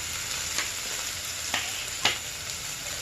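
Ridge gourd pieces fry in a pan with brown rice ingredients, a steady hiss of sizzling oil broken by three separate scraping stirs, with no one talking.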